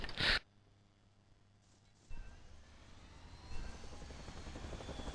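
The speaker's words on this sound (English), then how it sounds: "They've definitely got their choppers up in the air" Helicopters in the video game Battlefield 2, a low steady rotor and engine drone that begins after a short burst of noise, then rises and continues throughout at moderate distance.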